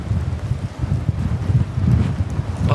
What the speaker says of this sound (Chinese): 啊，风好大，风好大！